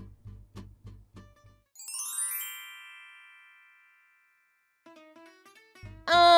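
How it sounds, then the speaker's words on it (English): A two-tone doorbell chime rings out clearly, followed by a sustained fading tone and then a brighter electronic melody. "You can hear the doorbell,"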